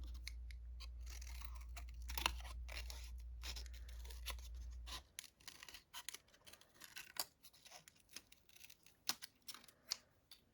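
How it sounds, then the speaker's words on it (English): Scissors cut a small circle from black paper, giving close, quiet snips and crisp paper scratches in an irregular rhythm over a low hum that stops partway through. "we'll take your tiny piece of black paper and cut a circle out for the nose"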